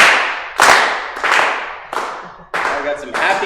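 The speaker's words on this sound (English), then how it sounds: "all I want you to do is clap your hands" Audience in a lunchtime strategy session clapping hands together in short rhythmic bursts, about six loud sharp rounds of applause close by, each swelling and fading, with a voice faintly under the claps.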